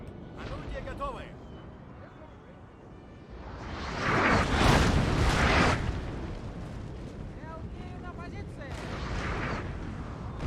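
Cannon artillery fire in the Napoleon: Total War game, heard as a swelling roar of booming blasts in the middle of the clip, with distant battle noise and scattered voices before and after.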